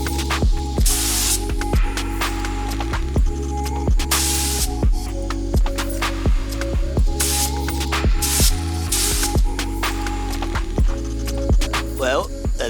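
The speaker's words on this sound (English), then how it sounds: "I hope I didn't overspray it." Short repeated bursts of a spray gun hiss in an uneven rhythm while coating a boat surface during yacht maintenance, close and steady over a low background hum, with a brief voice near the end.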